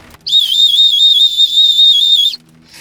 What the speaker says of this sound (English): Now I'm curious to see how the bird whistle works.